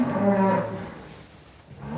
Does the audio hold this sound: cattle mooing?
yes